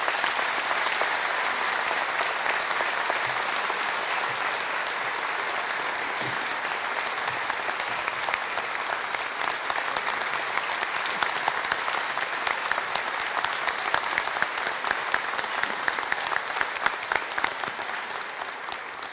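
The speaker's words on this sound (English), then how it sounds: "Please put your hands together and give a big round of applause." Sustained applause from a graduation ceremony audience at Bath Spa University, many hands clapping in a steady roar that grows more crisp and uneven toward the end, individual claps becoming audible.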